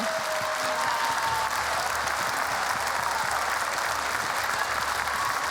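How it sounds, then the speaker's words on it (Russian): Sustained audience applause at a celebratory theatre concert, a dense steady wash of many hands clapping throughout, fairly loud and continuous with no pauses. "Наталья Викторовна, все улыбки, все аплодисменты и невероятные эмоции сегодня адресованы только вам."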